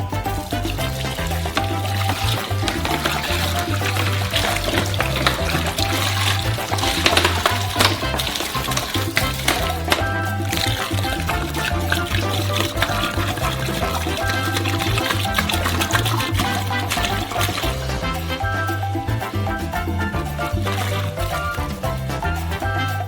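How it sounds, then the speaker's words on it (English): Water poured steadily into a large basin while mixing a giant batch of Snickers ice cream, a continuous rushing splash running unbroken for the whole stretch over a looping low background beat. "first pour half of the water out"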